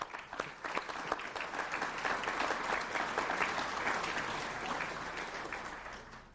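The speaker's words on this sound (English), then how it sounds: "I'm going to give you a round of applause." Sustained applause from a crowd at a school athletic hall of fame induction ceremony, steady clapping that swells and holds for several seconds before tapering slightly at the end.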